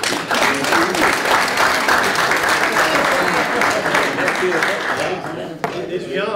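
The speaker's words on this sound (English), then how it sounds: "Let's give a round of applause, guys." Sustained, loud applause from the audience at a county commission meeting honoring students, a dense wash of clapping with cheering voices before it fades near the end.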